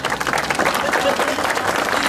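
Warm audience applause at an evening concert of Polish patriotic songs, a dense, steady wash of many hands clapping throughout, fairly loud and close, with no one speaking over it.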